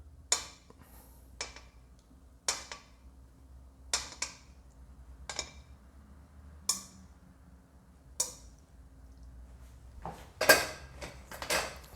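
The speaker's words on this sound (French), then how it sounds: "Je vais mettre mes quelques moules." Mussels dropped one by one into a cooking pan for linguine, giving about eight sharp, separate shell clinks spaced a second or so apart, then a louder cluster of clattering near the end.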